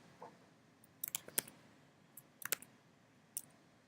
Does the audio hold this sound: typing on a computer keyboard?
yes